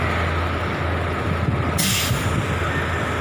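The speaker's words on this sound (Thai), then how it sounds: "กดล็อกลมแล้ว" Air brake on a trailer truck being locked during a roadside recovery: one short, sharp burst of compressed-air hiss over a steady low engine rumble.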